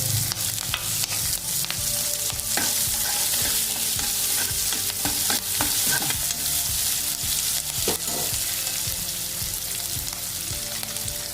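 Onions, green chillies and garlic frying in hot oil in a pan after cashews were browned: loud, continuous close sizzling with frequent stirring clatters and scrapes, and no voices.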